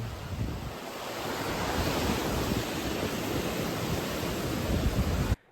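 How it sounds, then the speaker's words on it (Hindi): Water rushing beneath a small bridge in Rishikesh, a steady, dense roar that stays loud and unbroken throughout before cutting off abruptly at the end, with no voices. "इसमें पानी की आवाज़ भी आप सुन सकते हो"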